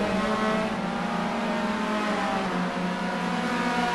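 Race cars at a circuit meeting in Nogaro, running side by side through corners, give a steady, dense engine drone with layered tones, continuous and fairly distant throughout.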